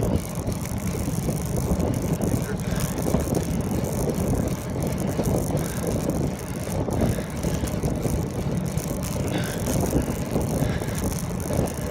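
A bicycle ridden outdoors, its steady rolling rumble mixed with wind noise and light mechanical rattling from the bike, continuous and close throughout.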